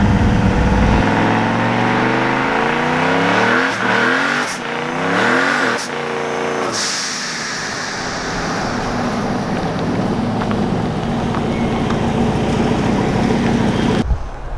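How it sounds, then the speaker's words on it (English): Turbocharged truck doing a burnout, a loud, close engine roar with revving sweeps and tire noise that peaks early, then settles into a sustained harsh drone before cutting off abruptly. "That was a crazy burnout."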